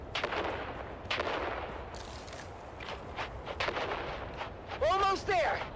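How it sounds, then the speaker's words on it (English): Grenade blasts and gunfire rumble through a Dune: Awakening battle, a dense run of booming impacts and crackling shots with footsteps, ending in a brief vocal shout over the din. "On three, we grenade and move. 3, 2, grenades out!"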